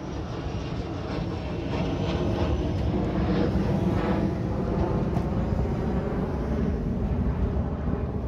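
A broad, loud roar of an airplane passing overhead near the railway at Eastleigh, swelling slightly and holding steady throughout with no voices.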